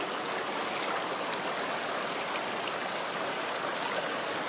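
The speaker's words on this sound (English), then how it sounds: "I'm just sitting here with my feet immersed in Mother Ganges. You can see the clean water here." Clean Ganges river water flows steadily in a valley at Uttarkashi, a continuous broadband rushing like a stream close by, holding at an even level throughout with no voices.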